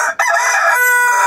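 Chickens on a coop floor of warm bedding, fed on canteen scraps, give a loud, close crowing call that fills the moment, with clucking layered in after a brief pause near the start.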